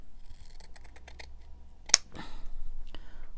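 Scissors snipping small bits of paper, several quick close snips in a row, then a sharp louder cut and a few softer crisp sounds.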